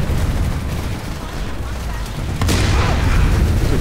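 Dense video game gunfire from PlanetSide 2, a sustained rattling barrage of shots and booms that grows louder and heavier partway through, with no pauses in the firing.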